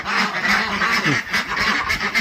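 Laying ducks quack and honk as a flock on a farm, a steady close chorus of overlapping calls with no talk.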